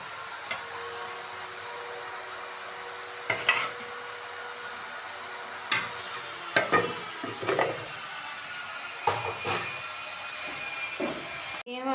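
Onions fry in ghee in a pot for aloo baingan, a constant broad hiss broken by scattered sharp clanks and scrapes of a utensil against the pot, with no speech.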